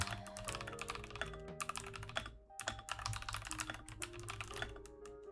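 A computer keyboard is typed on rapidly and continuously, with dense clicking keystrokes over faint background music and no talking.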